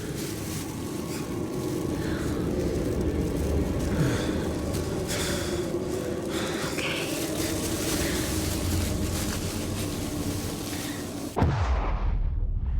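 A rising firestorm after a comet impact, heard from an observatory basement: a continuous, heavy, rumbling roar that stays loud and steady for many seconds before a sudden cut.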